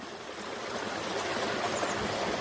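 Water spilling over a dry-stacked stone waterfall built without mortar, a steady broadband rush and splash heard close and alone, with no voices.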